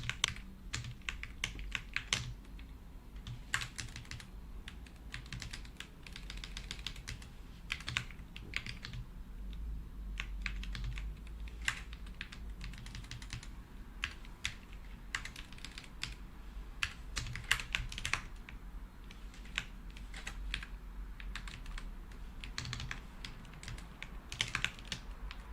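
Fast, continuous typing on a computer keyboard, close and crisp with irregular bursts of keystrokes and brief pauses, with no speech.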